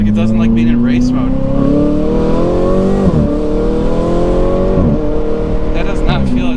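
A Ferrari 488 engine in race mode pulls hard while driving, a loud, steady roar rising in pitch through each gear. It dips briefly at two shift points, and a voice is faintly heard under the engine.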